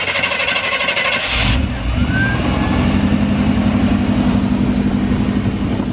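A truck engine cranks with a rapid whirring starter, then catches and settles into a loud, rumbling idle close by.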